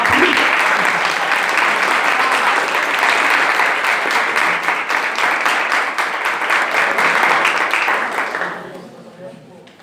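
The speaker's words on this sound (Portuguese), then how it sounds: "dá uma salva de palmas quando eu bebo água" Loud, dense applause from a large crowd, sustained for several seconds before quickly fading out at the end.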